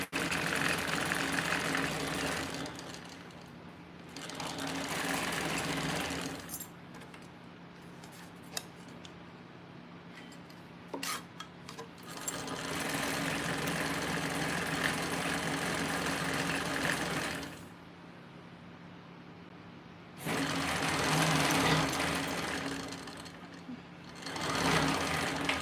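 A TrailBlazer sewing machine with large M-size bobbins stitches in several steady bursts, each a few seconds long, with quieter pauses between runs. The whirring motor and needle sound close and clear.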